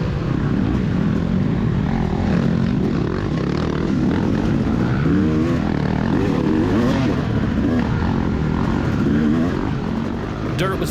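Dirt bikes, including a Kawasaki, race through a wooded cross-country course, engines droning loudly and continuously as the rider's own bike revs close by, with someone talking over the noise.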